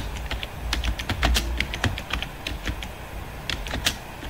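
Quick, irregular keystrokes on a computer keyboard, typing a prompt into ChatGPT, tapping close and fairly crisp with short pauses between bursts and no voices.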